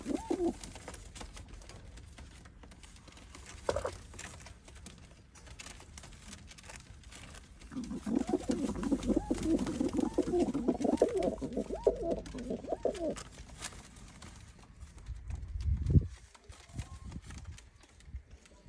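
Pigeons coo in low, throaty bursts, with a steady stretch of cooing through the middle and a louder rumble near the end over outdoor background noise.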